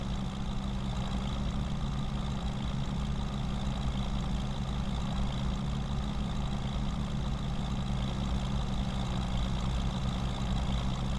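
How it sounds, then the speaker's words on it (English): A Mercedes truck in Farming Simulator 25 idles with a steady, low diesel rumble, continuous and even throughout without any talk. "I am really impressed by the sounds of these Mercedes"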